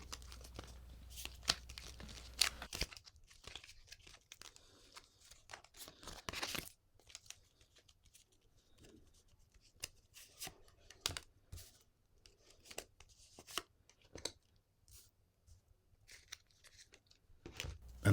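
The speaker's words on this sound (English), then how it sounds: "I will shuffle the cards" Ethics reading cards are shuffled by hand, a soft run of papery riffling, rustles and flicks that comes in uneven bursts close by, with no talking.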